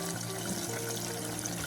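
Water pours steadily into a mixer grinder jar, making a close, continuous splashing gurgle with no pauses.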